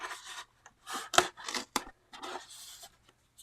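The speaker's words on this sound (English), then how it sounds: "How about if we take a spray bottle" A handheld spray bottle spritzes water onto a watercolor brick-wall painting in a series of short hissing bursts with brief pauses between, close and fairly quiet.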